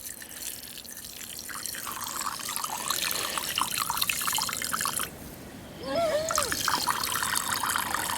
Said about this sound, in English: Wouldn't be Filipino food without a little bit of rice. Let's not get too fancy, we'll just give it a very quick wash.